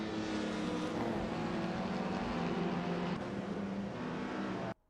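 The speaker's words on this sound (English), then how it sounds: "Enjoying the vintage street car race so far?" Vintage cars in a street car race produce a dense, continuous engine roar, steady and loud for several seconds before cutting off abruptly at the end.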